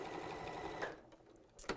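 Sewing machine stitching a book cover panel, a quick close run of rapid stitching that stops abruptly, followed by a brief pause and a short clack.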